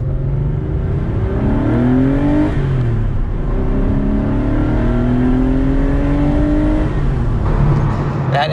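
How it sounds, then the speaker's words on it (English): A Porsche RS America's flat-six engine revs loudly and continuously, pitch climbing and falling in long sweeps as it accelerates through gears, close and sustained throughout. "That engine note is so beautiful."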